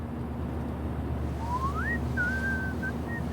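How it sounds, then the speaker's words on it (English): A character in the video game Life Is Strange whistles a short, wandering melody of several rising and held notes over a constant low hum and faint background noise. "Do you mind not whistling?"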